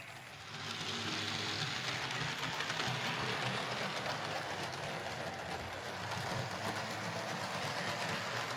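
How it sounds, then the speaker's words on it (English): An old Lima J50 model train locomotive's worn split-chassis motor whirs and rattles continuously with a rough, noisy hiss, close by and steady after a brief quieter start. "it was a little noisy and rough"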